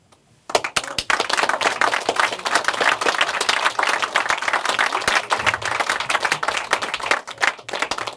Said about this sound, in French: Mais j'ai envie qu'on l'applaudisse, parce qu'il est au cœur de cette soirée.